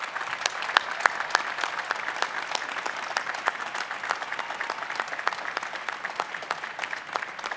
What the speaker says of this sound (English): Students, will you join me in a round of applause for faculty and staff members who guided and